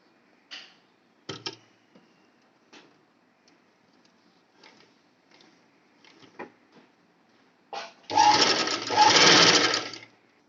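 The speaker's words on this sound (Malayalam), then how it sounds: "ഒരു 1/4 ഇഞ്ച് വീതിയിൽ സെൻട്രൽ നിന്ന് മുഴുവനായി സ്റ്റിച്ച് ചെയ്യാൻ പോവുകയാണ്." A sewing machine stitches the skirt and lining of an umbrella-cut frock at a quarter-inch width. Scattered handling clicks come first, then the machine runs in a loud, steady close-up whir for about two seconds.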